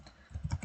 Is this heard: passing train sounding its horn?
no